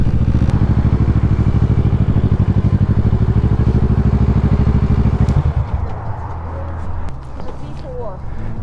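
Loud, steady idle of a Kawasaki Ninja ZX-6R 636 sport motorcycle at an outdoor bike night, its rapid even pulsing running up close for about five seconds before cutting out, leaving quieter crowd noise and chatter.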